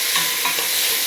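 Small pieces of chicken leg fry in a hot pan, giving a close, steady crackling sizzle with bursts of stirring for about a second, with no voices.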